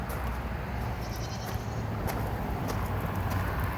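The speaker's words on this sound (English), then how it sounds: "What do we have here? A goat." A goat at a petting zoo bleats faintly among a dense, noisy outdoor background, with scattered short sounds and no clear speech.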